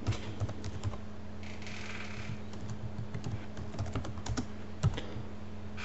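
Name and password being typed on a computer keyboard during account setup, a steady run of close, crisp key clicks with a low steady hum underneath and no talking.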